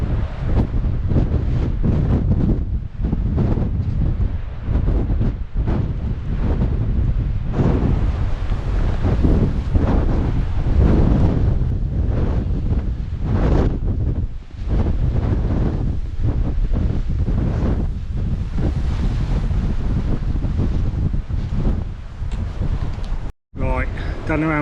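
Wind sweeps across an exposed cliff top in a loud, continuous roar that buffets the microphone with steady gusts, then cuts out briefly near the end.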